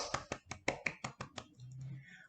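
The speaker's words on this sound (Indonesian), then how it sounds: "Tepuk tangan untuk kelas 8A." A classroom of eighth-grade students claps in a quick, rhythmic pattern of about eight sharp, evenly spaced claps in unison, followed by a short stretch of murmuring voices.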